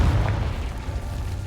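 A fire spell explosion in the Hogwarts Legacy video game lands as a loud, deep boom with a rumbling low-end tail that fades over about a second and a half, with no talking over it.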